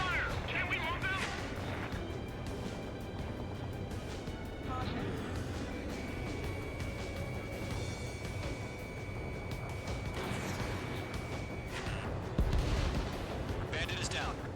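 Dense, continuous battle noise from Ace Combat 7 fills the whole stretch: booming artillery fire and gunfire with crashing impacts, steady and loud, with radio voices heard over it.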